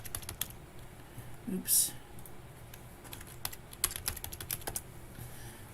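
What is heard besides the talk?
typing on a computer keyboard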